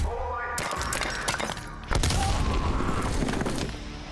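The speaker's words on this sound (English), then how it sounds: "You're going to aim up and throw your nade over in that direction." A grenade thrown and exploding in the Black Ops Cold War map Garrison. A sharp, loud blast with a shattering burst hits about two seconds in, amid other in-game gunfire and impact noise.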